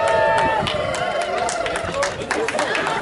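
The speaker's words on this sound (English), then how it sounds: "Thank you for the cheer, folks." Crowd at the Edinburgh Canal Festival raft race giving a cheer, a broad babble of voices and shouts with scattered claps spread around, moderately loud and continuous.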